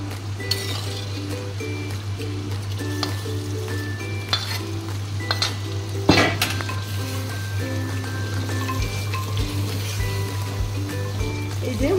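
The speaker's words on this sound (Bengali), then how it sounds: "এই যে মটনের তেল বেরিয়েই এসছে, আর একটুখানি কষিয়ে এটা জল দিয়ে দেবো।" Boiled mutton being sautéed in oil in a pan, with a continuous sizzle, spatula scraping and metal clinks, and a steady low hum in the background; no one talks.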